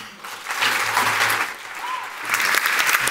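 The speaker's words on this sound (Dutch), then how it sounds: "Groot applaus voor Joost van Kersbergen, dames en heren." Applause from an audience at an Amnesty International evening on the Dutch surveillance law, a dense wash of clapping filling the whole stretch, swelling again near the end.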